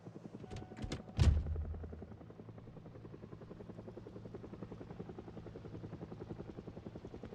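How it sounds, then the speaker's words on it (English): A video game helicopter's steady, rapid rotor chop and engine rumble continue throughout, after a few loud thumps near the start. "That's why you hear a helicopter."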